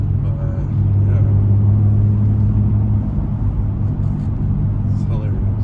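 An Infiniti G35 on a night mountain touge drive gives a deep, steady engine drone from its intake and exhaust, heard close from inside the car.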